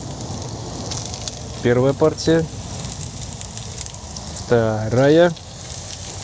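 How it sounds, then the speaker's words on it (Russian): Minced meat goes into a pan with onions and sizzles steadily, a continuous crackling fry under a man's brief spoken words. "Сейчас будем отправлять фарш в сковородку."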